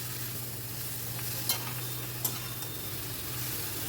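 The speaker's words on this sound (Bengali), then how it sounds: "নেড়ে মশলাটাকে ভালো করে কষিয়ে নিতে হবে" Masala and onions fry in a pan for a chicken dish under a steady soft sizzle, with two sharp scrapes of a stirring utensil against the pan and a low constant hum.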